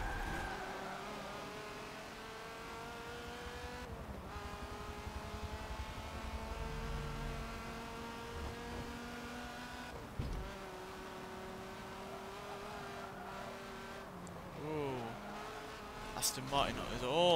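A race car in Forza Motorsport 7 revs through its gears on track, engine pitch climbing and dropping with each shift, tyres squealing briefly, while a person talks over the steady drone.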